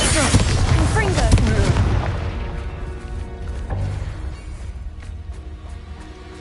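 A Confringo blasting spell explodes in Hogwarts Legacy, a loud booming burst right at the start that rumbles and fades over several seconds, with a brief shouted voice mixed in.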